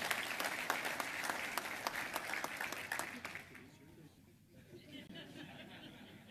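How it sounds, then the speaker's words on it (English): An audience at a U.S. Army Sergeant Major forum and awards breakfast breaks into warm applause that fades after a few seconds into murmured chatter and light chuckles. "Let's give him another round of applause"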